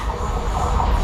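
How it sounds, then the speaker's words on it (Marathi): A train rumbles in close by on the Panvel–Karjat line, a loud, continuous low roar of rolling wheels with faint rail squeal, no voices. "शेवटी एक ट्रेन आलीच"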